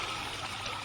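A fountain of water sprays into a foldable portable dog pool from a hose connection, giving a brief, steady hiss and splash at moderate level with no voices.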